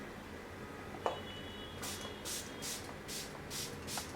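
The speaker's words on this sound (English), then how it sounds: "I'm going to go ahead and apply finishing spray." A spray bottle of MAC Fix Plus setting spray gives several short, breathy hisses in a row onto a face, close by, after a soft click and some quiet rustling.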